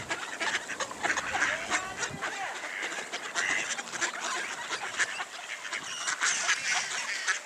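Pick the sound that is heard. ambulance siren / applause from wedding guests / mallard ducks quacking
mallard ducks quacking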